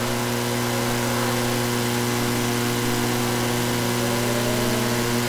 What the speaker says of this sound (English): look at that Toyota horsepower kicking in down the back straightaway